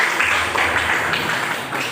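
Children clapping together in a classroom after a religious lesson, a steady, dense patter of applause lasting a couple of seconds with no pauses.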